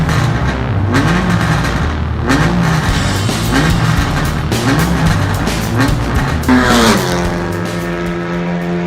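Honda Civic TCR race car with a 4-cylinder turbocharged engine, shared with the FK2 Civic Type R, rasping through rising revs and gear changes, loud and close, ending in one long climbing pull with no voices.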